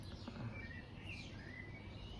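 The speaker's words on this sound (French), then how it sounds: "Il fait beau, il y a du soleil, les oiseaux chantent" Birds singing outdoors on a sunny day, faint thin chirps and short whistled phrases over a steady soft background hiss, distant and quiet, with no talking.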